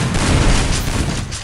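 Gunfire in a shooter video game, a loud dense burst of booming shots rolling together for over a second, close and heavy.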